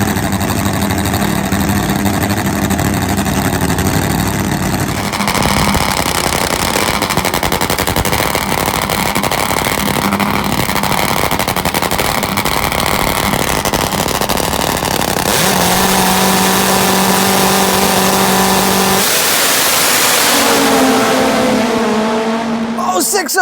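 Top fuel nitro drag motorcycle run at an Australian drag strip, a loud, continuous roaring engine blast that shifts pitch through the pass, with commentary audible beneath the racket.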